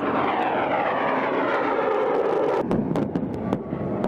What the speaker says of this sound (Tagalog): Nagpalipad sila ng fighter aircraft.